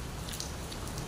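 Heavy rain pours down outdoors in the Philippines, a dense, loud, unbroken hiss of drops striking surfaces, with no voices.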